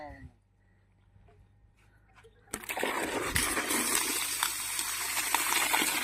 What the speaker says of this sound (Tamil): மூணு இன்ச்சு பைப்பு நல்லா ஃபுல்லாக தண்ணி வச்சுருக்கு